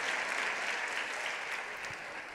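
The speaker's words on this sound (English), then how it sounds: "now put your hands together and give the Lord a hand clap" A church congregation claps together during a sermon, producing a steady, fairly soft wash of hand clapping for a couple of seconds with no talk over it.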